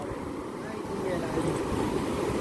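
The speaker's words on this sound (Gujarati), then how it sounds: "બાકી મોજા દરિયામાં જે પેલા બનતા હતા ને એવા જ બને છે" Sea waves rolling onto Nagoa Beach in Diu during the monsoon, a steady broad wash of surf with some wind noise, continuous and moderately loud, with faint voices in the background.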